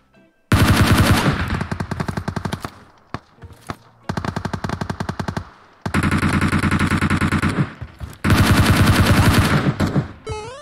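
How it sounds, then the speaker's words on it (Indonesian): Automatic gunfire in the PUBG Mobile battle game, likely a Thompson submachine gun, loud and close, in several long rapid bursts separated by short pauses, with crisp individual shot transients. "Tapi ada tembakan orang tuh."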